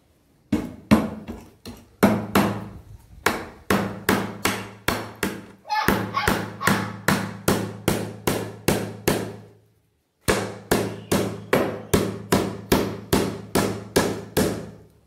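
A nail being hammered, a long run of loud, evenly spaced metallic blows in quick rhythmic bursts with a few short pauses between series, heard close with no talking.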